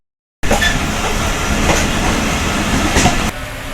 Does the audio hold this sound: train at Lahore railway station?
yes